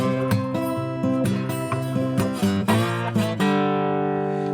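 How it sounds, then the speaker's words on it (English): Slide guitar picks out the opening part of a blues song, a repeating figure of sliding notes and plucked strums, close and clear, ending on a long ringing chord. "you're going to need a slide for this one"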